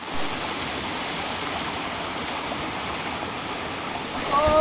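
Cold stream water flows through the hills near Ajaygarh in Madhya Pradesh, making a steady, close, broadband rush that swells slightly at the end. No one speaks over it.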